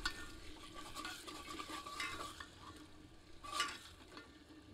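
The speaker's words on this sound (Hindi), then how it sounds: "अब तेज आंच पर इसे भूनते रहते हैं ताकि इसका पानी थोड़ा सूख जाए।" Goat head and trotters curry being stirred and fried over high heat with a ladle, a steady sizzle with repeated metal scraping and clinks against the pot, close and continuous with no talk.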